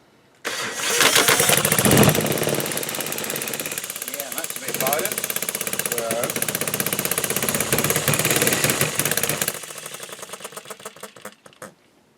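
A Retrol Musa HM-01 hit-and-miss four-stroke gas engine runs steadily in normal mode, a loud continuous mid-pitched chugging for about nine seconds before it cuts off and falls quiet.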